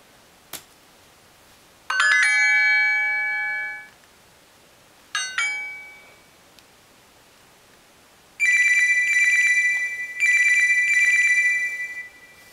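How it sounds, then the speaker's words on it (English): Notification tones from a rooted Palm Pre smartphone: a short click, then a sustained bright chime, a briefer tone, and two longer repeated ringing tones, played clearly with no talking. "I'm going to play some notification tones."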